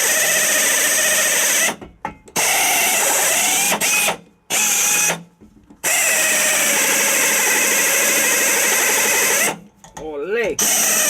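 An air compressor runs steadily in a garage during a Hornblasters 540 horn kit install, a loud continuous mechanical drone broken by several brief pauses, with speech over it in places.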